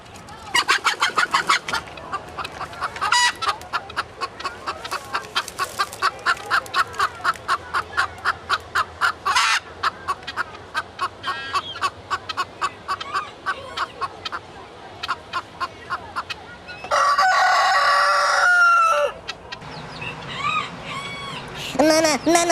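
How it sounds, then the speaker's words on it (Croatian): Hens cluck in a steady, rapid series while a rooster crows, with birds at a former mill site during a bird-ringing outing. Voices talk over the flock at times, and a louder burst of calls rises near the end. "I mi koke smo ptice i nas snimajte."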